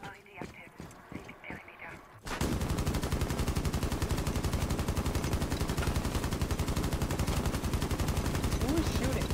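Sustained rapid automatic gunfire in a Rainbow Six Siege ranked match rattles on loud and unbroken for several seconds, after a quieter stretch of game noise and voices.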